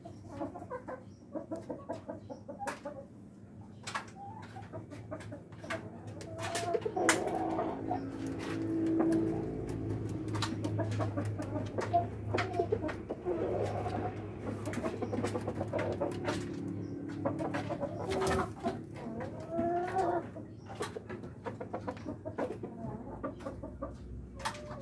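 Roosters on a breeder's farm crowing and clucking repeatedly, with sharp bird calls scattered across a steady farmyard background and other fowl nearby.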